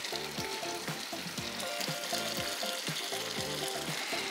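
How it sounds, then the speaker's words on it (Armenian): Bacon frying in a pan in a home kitchen, a steady dense sizzle with crackling pops throughout, while a melodic tone pattern repeats in the background. "Բեկոնը արդեն տապակել ենք"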